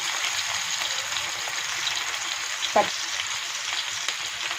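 Onion, green chilli, ginger and curry leaves fry in oil left from fried fish, a close, steady crackling sizzle with one brief scrape of a spoon midway.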